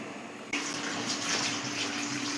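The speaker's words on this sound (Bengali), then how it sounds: "আর এখন মাছটা ধোবো।" Tap water gushes steadily into a sink or basin while fish is rinsed for cooking, starting abruptly and continuing as an even, close splashing flow.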